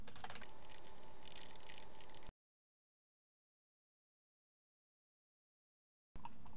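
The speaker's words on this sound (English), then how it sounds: "You type something." Keys on a computer keyboard clatter in a quick, close burst of typing for about two seconds, then everything drops to silence.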